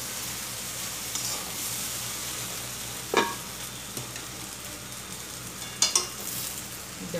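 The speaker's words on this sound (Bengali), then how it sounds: "ভেন্ডিটা বেশ ভাজা ভাজা হয়ে গেছে।" Okra sizzling steadily in a pan, with a few sharp scraping stir strokes and clinks standing out over the continuous frying hiss.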